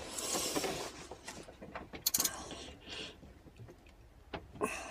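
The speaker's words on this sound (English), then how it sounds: "Okay, now I think I've got the screwdriver bit in the head of the screw. Yes, I do, because it seems to be tightening up." A screwdriver tightens a screw while a no-start fault is being fixed, giving faint, close ratcheting clicks and small scraping turns in irregular bursts with no voices.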